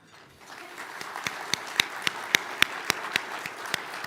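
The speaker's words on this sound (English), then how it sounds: "thanks for leading that clap" Audience applause at a mining club luncheon, a modest spread of clapping with a few distinct sharp claps rising above a soft wash of hands, moderately distant and fading quickly.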